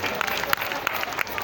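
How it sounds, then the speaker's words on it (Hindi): Crowd applause at a Mata Rani jagran held at the Baba Bankhandi Nath temple in Bareilly, a steady patter of many hands clapping under loud reverberant public-address sound. "ताली बजा दो।"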